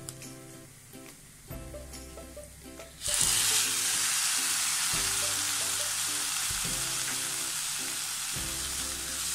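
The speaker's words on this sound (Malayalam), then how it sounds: "ഇനി നമ്മൾ റെഡിയാക്കി വെച്ചിരിക്കുന്ന നമ്മുടെ തക്കാളിയുടെ പേസ്റ്റ് ഈ ഒരു സമയത്ത് നമുക്ക് ഇതിലോട്ട് ആഡ് ചെയ്ത് കൊടുക്കാം" Tomato paste hits hot oil in a pan of vegetable masala, and a gentle low simmer with light stirring suddenly swells into a loud, steady, close sizzle that holds to the end.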